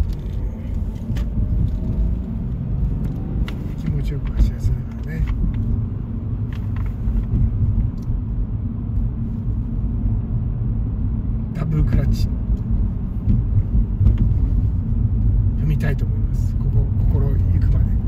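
Subaru Legacy B4 sedan with a manual gearbox cruising on the road, heard from inside as a steady low engine and road rumble; someone talks over it, with occasional small rattles.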